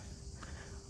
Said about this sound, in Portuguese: Tô escutando até cigarra cantando.